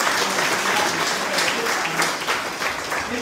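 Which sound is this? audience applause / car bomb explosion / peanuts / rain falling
audience applause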